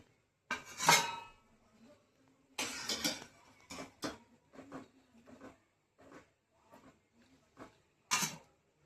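Besan gatte are transferred from a pot onto a plate in a home kitchen, producing close, sharp metal clinks and scrapes in irregular bursts with quiet pauses between them.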